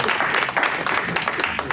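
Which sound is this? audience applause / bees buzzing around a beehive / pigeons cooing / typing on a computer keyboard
audience applause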